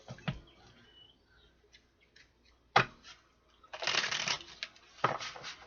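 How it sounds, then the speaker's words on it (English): Playing cards are shuffled close by, with soft riffling bursts and light papery flicks between quieter moments. "Alright, one more shuffle here."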